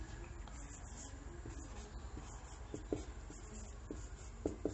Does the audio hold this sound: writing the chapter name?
yes